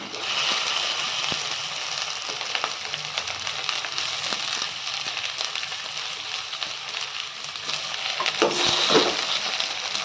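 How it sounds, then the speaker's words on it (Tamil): Onion and tomato sauté in a pan for a hotel-style mint chutney, giving a continuous close hiss and sizzle with scattered scrapes and taps from stirring, swelling slightly toward the end. "இந்த ஸ்டேஜில் தக்காளி சேர்த்துக்கலாம்"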